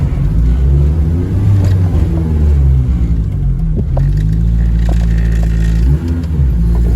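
A Honda Civic DC5 Type R sedan with a swapped K20A engine and manual conversion revs up loudly and close, its deep throbbing drone rising and falling steadily for several seconds without any talk.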